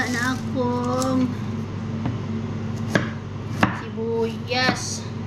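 Onion is chopped on a board with a few sharp, separate knife knocks, close by, while a voice talks over a steady background hum.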